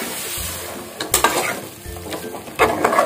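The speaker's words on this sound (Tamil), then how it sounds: "இதை இப்போ நல்லா கிளறி விடுவோம்." Chicken pieces frying and being stirred in a pot for donne biryani, with a steady close sizzle broken by several scraping stir strokes and clinks of the spoon against the pot.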